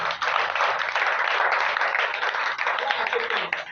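A church congregation claps together in a steady, dense burst of applause to acclaim Jesus, loud and close, with voices mixed in beneath the clapping.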